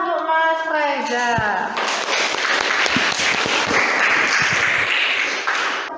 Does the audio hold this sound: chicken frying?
no